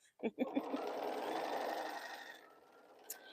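A sewing machine stitches quilt block sections for boho heart blocks, running in a steady continuous whir for a few seconds after a couple of short starts, then stopping.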